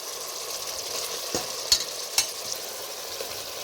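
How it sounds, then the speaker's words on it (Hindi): Masala for egg biryani fries in hot oil, giving a steady close sizzle broken by a few sharp scrapes and taps of stirring. "10-20 मिनट तक फ्राई करना है"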